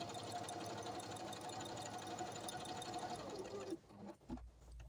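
A Brother portable sewing machine stitching a buttonhole, a steady fast mechanical whir and ticking running for nearly four seconds before stopping, followed by faint handling noises.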